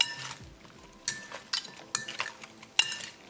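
Bell pepper, onion and mushroom pieces are stirred into a creamy paneer tikka marinade in a bowl, giving a series of sharp utensil clinks against the bowl at irregular intervals over soft, wet mixing sounds.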